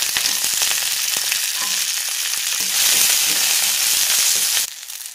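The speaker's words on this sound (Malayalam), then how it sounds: "ഈ വെളിച്ചെണ്ണയിൽ ചെറിയ ഉള്ളിയും വറ്റൽ മുളകും ഇട്ട് ഒന്ന് മൊരിയിച്ചെടുക്കാം." Shallots and dried red chillies frying in coconut oil for pappada chammanthi give a loud, dense sizzle with light stirring ticks. The sizzle swells midway, then drops off sharply near the end.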